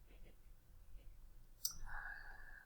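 A single sharp computer mouse click, faint and close, heard amid quiet room noise in an invoicing program, followed by a soft breathy rustle.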